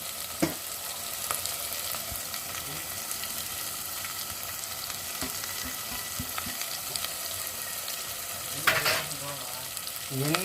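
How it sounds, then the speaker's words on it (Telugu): Masala and chili powder being stirred into Mysore-style pulihora, a soft steady scraping and mixing with faint sizzle, alone and close, with a few brief louder clatters. "వేసుకొని బాగా కలబెట్టుకోవాలి"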